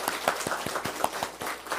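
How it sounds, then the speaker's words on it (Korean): A small church congregation claps to welcome a member at a Sunday service, a faint, sparse burst of individual hand claps with a loose, uneven rhythm. "박영규 우리 성도님 자리에서 박수로 맞이하겠습니다"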